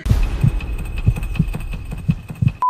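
A heartbeat sound effect pulses in a steady, loud rhythm of deep low thumps, about two per second, ending with a sudden steady tone.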